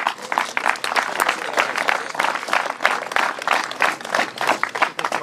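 An indoor audience at a gathering with soldiers claps steadily and fairly densely for several seconds. The applause is close and even throughout.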